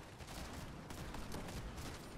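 Distant gunfire in Fortnite, a dense, muffled crackle of shots running continuously under a busy, fairly quiet game soundscape.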